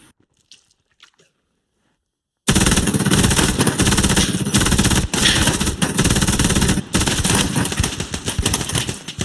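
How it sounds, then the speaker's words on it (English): Soldiers firing in the video game Hell Let Loose: near silence for a couple of seconds, then a sudden, loud, sustained barrage of dense overlapping gunfire with brief dips. "The soldier's going to start firing once the smokes have lain down"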